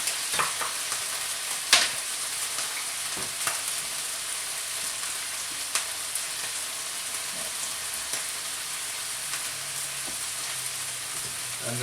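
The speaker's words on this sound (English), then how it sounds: "Stir it round." Liver and kidney sizzle steadily in a frying pan, with occasional scraping clicks from stirring and a faint low hum in the background, no talking.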